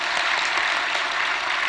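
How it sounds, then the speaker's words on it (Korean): Church members give applause for the high school students, a short, loud, even burst of many hands clapping with no talk over it. "고동부 우리 학생들 박수"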